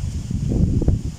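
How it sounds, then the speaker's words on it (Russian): Wind blowing outdoors on a sunny hiking trail near Kordon Pechuga in the Suzha area, a low continuous rumbling buffet close to the microphone, steady with small gusts throughout. "Видишь, как дует кайфово."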